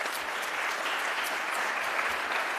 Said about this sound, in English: One last round of applause for our panel.